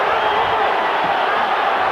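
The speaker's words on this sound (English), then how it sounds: "Crowd going wild with every Chavez punch" Dense, steady roar of a boxing crowd cheering as Chavez lands punches on Gonzalez, a loud continuous wall of voices with no clear breaks.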